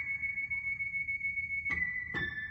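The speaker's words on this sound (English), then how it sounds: "believe it or not, that sound is an organ sound" A high-pitched organ patch on a keyboard holds one thin sustained tone, fairly quiet, with two brief soft attacks near the end as the note is restruck.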